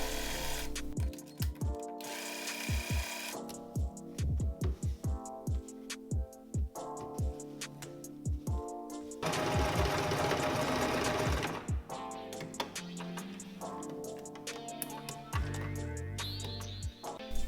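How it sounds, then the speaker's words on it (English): Domestic sewing machine stitching pairs of small fabric squares placed right sides together, close and steady, with bursts of rapid needle chatter broken by short pauses and handling noises, no talking. "we're going to place them right sides together and sew 3 of the 4 sides"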